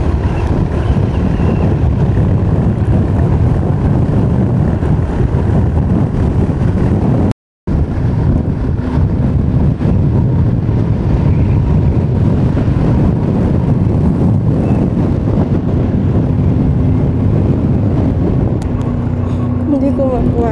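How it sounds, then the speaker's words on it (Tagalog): Strong wind batters a phone microphone on the road near Tagaytay, a loud, steady roar that cuts out for a moment and then carries on. "Lakas ng hangin"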